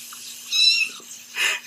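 Kittens give a couple of short, high meows, one drawn-out cry followed by a brief breathy call, heard alone over a faint steady hum from a video playing back.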